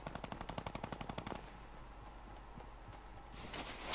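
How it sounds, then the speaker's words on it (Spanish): A rapid string of gunshots in the battle royale game Fortnite, a loud regular burst in the first second and a half that fades into quieter background noise. "Ya están disparando"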